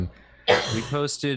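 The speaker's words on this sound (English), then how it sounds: "That was a cough." A single sharp, close cough breaks out, followed straight away by a person speaking.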